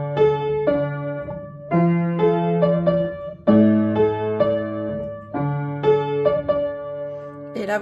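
Solo piano playing a tune, a rhythmic sequence of struck notes and doubled chords with clear attacks and decays, close and fairly loud without voices.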